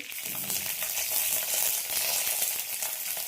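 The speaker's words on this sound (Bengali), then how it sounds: "কারি পাতা, কিছু রসুন আর পেঁয়াজ, এগুলো ফোড়নে দিলাম।" Curry leaves, garlic and onion drop into hot tempering oil in a lentil-and-bottle-gourd dish, producing a steady, close, loud hissing sizzle with crackles throughout and no voices.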